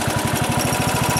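A garden tractor with a 19 horsepower engine idles with a steady, chugging low pulse, a fast even rhythm heard up close and alone.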